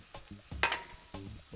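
Garlic dropped into a pan for Israeli couscous, giving a brief sizzle and stirring scrapes with a sharp burst in the middle, short and close.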